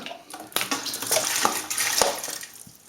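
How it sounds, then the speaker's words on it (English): Water splashes and pours from a tap into a home brewing pot for a few seconds, close and moderately loud, with light clinks of the pot. "Okay, so let's add some water."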